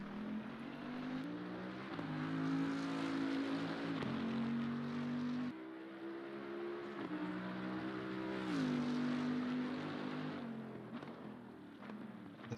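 A Bentley GT race car in Assetto Corsa Competizione laps Spa during a 24-hour sim race, its engine droning steadily and shifting pitch through gear changes and throttle swells, loud and continuous with no talk.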